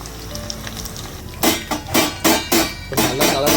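Chicken 65 fries in hot oil with a steady sizzle, then a series of louder rhythmic bursts of crackling as the pieces are stirred or turned in the pan.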